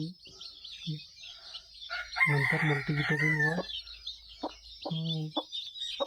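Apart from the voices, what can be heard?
newly hatched country chicken chicks and hen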